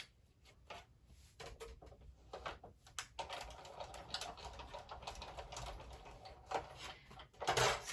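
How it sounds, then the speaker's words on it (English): A die cut machine cutting vellum paper for a handmade card, giving a quiet, steady mechanical clicking and whirring rattle close by with no talking. "I'm going to run this through my die cut machine."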